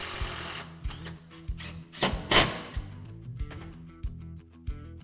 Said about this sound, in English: install into the four factory self-threading inserts using a cordless impact driver or drill